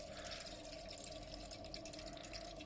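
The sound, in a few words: toilet cistern filling quietly after new stop cock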